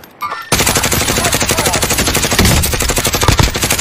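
Sustained machine-gun fire at a helicopter in Call of Duty: Warzone, a loud, close, rapid rhythmic stream of shots that begins abruptly after a brief quieter moment and continues without pause.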